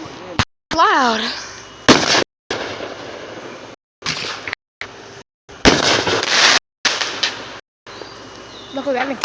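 Fourth of July fireworks bang and crackle in a rapid series of loud, close bursts, with whistling rockets rising between them and people talking and reacting throughout.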